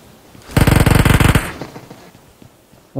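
Burst of automatic gunfire in the mobile battle-royale game PUBG Mobile, a loud rapid stream of shots lasting under a second, then fading echoes and quiet ambience.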